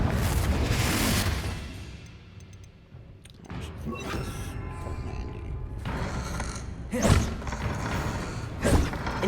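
A Confringo fire spell explodes in a Harry Potter-style spell-casting video game, a loud sustained blast with heavy thuds and booms followed by further impacts and rumbling effects.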